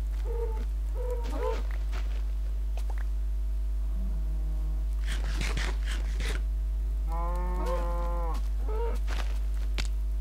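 Minecraft cows give several separate low, drawn-out moos against a quiet background, with a few short fowl-like clucks in between.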